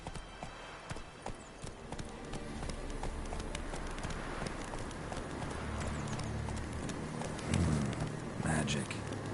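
Roach the horse gallops in a video game on a PS4 broadcast, a steady rhythmic clip-clop of hooves running close and continuous, with a voice talking over it and a brief whinny-like burst near the end.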